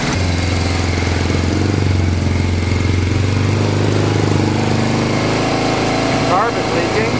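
A Suzuki GS850 motorcycle engine running for the first time in five years, with leaking carburetors, idling loud and steady throughout with a constant low rumble and close, continuous mechanical clatter.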